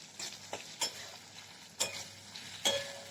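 Chopped tomatoes frying in a pan for a Bengali egg poach curry, with a faint sizzle under four sharp utensil scrapes and clicks spread out in time.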